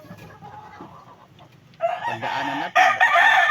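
A fighting rooster crows loudly and clucks in repeated bursts, close and prominent, after a stretch of quiet speech in the background.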